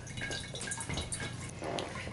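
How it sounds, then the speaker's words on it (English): Water from a Sawyer Mini filter on a bucket adapter kit pours steadily into a receptacle, a continuous close trickling and splashing stream with small drips, moderately quiet and without speech. "You might be able to see that the water is flowing at a considerable rate."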